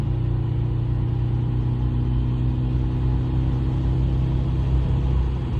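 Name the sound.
Chevrolet Impala car engine accelerating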